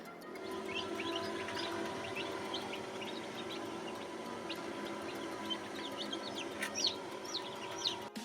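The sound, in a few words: chicks chirping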